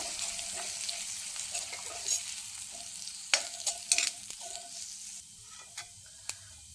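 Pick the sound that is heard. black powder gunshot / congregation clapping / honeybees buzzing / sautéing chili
sautéing chili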